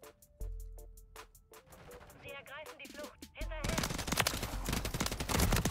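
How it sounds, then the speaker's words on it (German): Weapon gunfire in Modern Warfare III multiplayer on the Terminal map: a few sharp single shots with game sound effects, then dense, rapid bursts of automatic fire, loud and close. "wenn man schießt, wie der Sound der Waffe ist"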